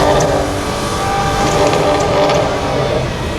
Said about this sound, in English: the DBS. Here, the 6 litre V12